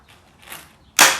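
A pop rivet snaps off sharply with a single loud crack, preceded by faint squeezing of the rivet tool while fitting a modified RV dump hose holder.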